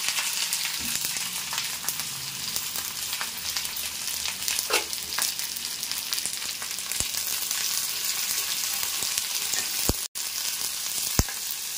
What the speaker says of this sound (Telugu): ఇవి కూడా బాగా మంచి గోల్డెన్ కలర్లో వచ్చేలాగా మనం బాగా ఫ్రై చేసుకోవాలి.